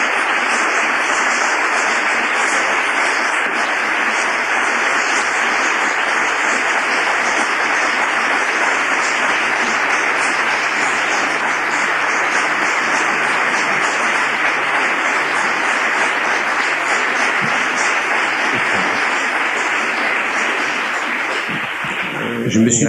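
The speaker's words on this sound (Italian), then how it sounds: "questo applauso è tutto per lui" A large audience applauding at a business talk, a dense and steady wash of clapping that holds loud and unbroken for over twenty seconds before easing slightly at the very end.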